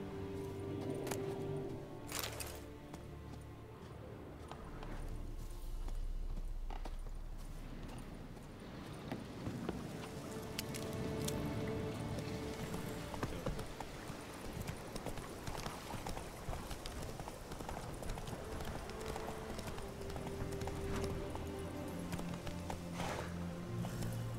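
Roach the horse's hooves in The Witcher 3: Wild Hunt clop steadily and rhythmically at a brisk pace throughout, close and continuous over low ambient wind and game atmosphere.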